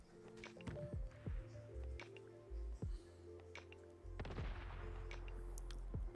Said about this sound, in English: The explosion's nice.